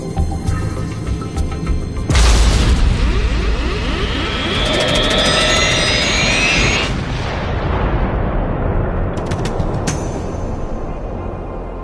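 A dramatized explosion of the Pan Am Flight 103 airliner over Lockerbie, Scotland: a sudden loud boom followed by roaring, crackling debris and a long rumbling tail, with further blasts later.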